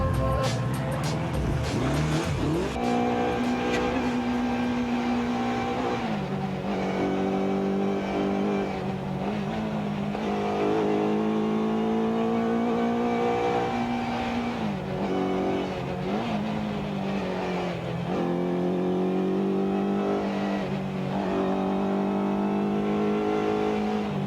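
A home-built motorcycle based on a Kawasaki Z1000 races at speed in a rally, its engine screaming loudly and close throughout, with repeated rises and drops in pitch through gear changes and corners.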